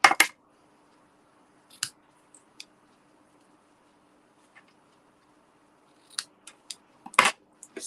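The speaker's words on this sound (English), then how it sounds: "Right, so ribbon scissors." A few crisp scissor snips cutting ribbon, isolated clicks spaced apart with quiet between, then a quicker cluster of snips near the end.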